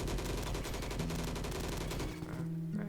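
An MGX light machine gun fires a rapid sustained burst in the Bad Business video game, loud and close, its rounds dense and continuous for about two seconds before stopping.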